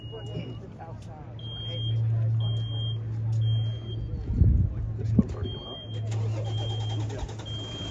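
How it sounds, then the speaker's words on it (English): A smoke detector going off during a fire sprinkler demonstration by a fire department: repeated high-pitched electronic beeps in a steady on-off pattern, heard over a low engine rumble and a thump or two of handling noise. "So the smoke detector has already gone off,"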